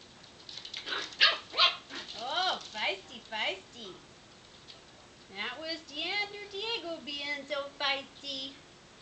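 A small Yorkshire terrier puppy gives a string of high, squeaky yips and barks in two bursts, close by and moderately loud, with a person speaking faintly in between.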